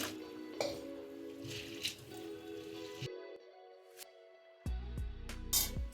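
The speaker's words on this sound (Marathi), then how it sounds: "त्यासाठी मी अर्धा किलो साबुदाणा घेतलेला आहे ते मी दोन पाण्याने स्वच्छ धुवून घेणार आहे" Half a kilo of sago pearls is washed by hand in water, with soft sloshing, squishing and dripping up close. A short quiet pause comes midway, then a louder burst of splashing near the end.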